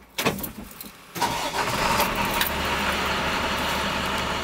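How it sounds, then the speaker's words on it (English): A bus engine cranks and catches, with a few faint clicks and rattles before a sudden surge that settles into a steady, rumbling idle close by while air brakes are being tested. "The bus is turned on."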